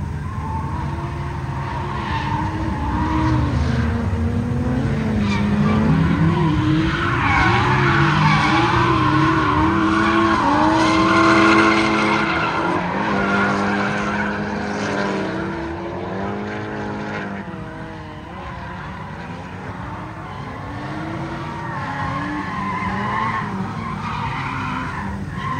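Cars at a drift event slide with long, loud tire squeals and revving engines, repeated skids rising and falling over the course of the run, heard from the sidelines.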